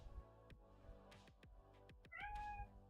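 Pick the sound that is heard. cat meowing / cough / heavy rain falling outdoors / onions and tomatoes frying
cat meowing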